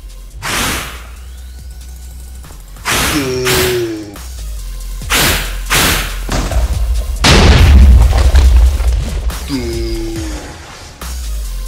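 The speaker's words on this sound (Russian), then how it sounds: "Он вызывает взрывающихся сквидов, из-за чего борьба с ним очень-очень сложная" Exploding squids summoned by a squid boss in a modded Minecraft game, a series of loud booming blasts with whooshing sweeps, heavy low rumbles and bursts recurring irregularly, one after another.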